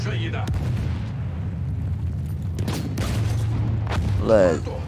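Battlefield 1 video game artillery booms go off amid battle noise and a low engine rumble, with voices speaking briefly between the blasts.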